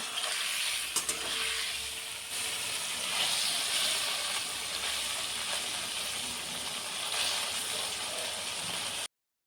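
Continuous sizzling of paneer frying in hot oil, with bubbling hiss and occasional stirring clinks, close and steady, then sudden silence.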